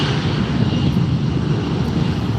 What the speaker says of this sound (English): Looks like a Delta connection from the size of it.